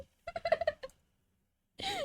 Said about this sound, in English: Dude, I'm hearing duck quacks.